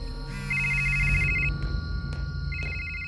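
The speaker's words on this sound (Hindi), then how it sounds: "रात का समय है, फोन की घंटी बजती है।" A telephone bell rings at night in a Hindi cartoon, with two electronic trilling bursts separated by a short pause, faint and alone with no voices.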